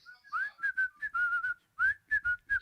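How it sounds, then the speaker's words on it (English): A person whistles a clear, lively tune while waiting, a run of short, close-up phrases with brief pauses between them. "I'll just whistle while we're waiting for it to get to him."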